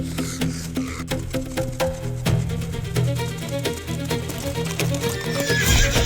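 Zebras galloping in flight across open African ground, a dense drumming of many hooves with occasional whinnies, steady and fairly loud throughout.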